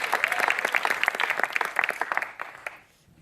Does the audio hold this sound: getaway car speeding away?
no